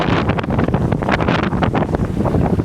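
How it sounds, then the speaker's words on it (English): Strong wind buffets loudly and continuously, gusting in rough pulses with a heavy rushing roar and no voices. "It's very windy, very windy. Very, very windy."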